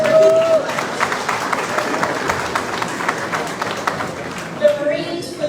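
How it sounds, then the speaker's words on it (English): A crowd at a US Independence celebration with Liberia's president applauds the evening's MC, a steady wash of clapping kept up under a speaker's voice throughout. "I think he deserves a round of applause"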